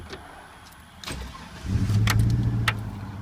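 A 2000 GMC Z71 2500 pickup truck engine cranks briefly after a few clicks, then catches and settles into a loud, steady idle, close by with no talk.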